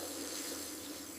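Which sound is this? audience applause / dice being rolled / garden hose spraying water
garden hose spraying water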